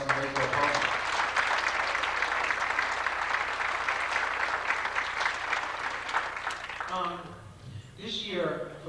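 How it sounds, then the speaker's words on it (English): An audience at a 1988 baseball awards event applauds the varsity baseball team, dense sustained clapping for about seven seconds before it fades and a voice begins speaking. "deserves a round of applause for our varsity baseball partners"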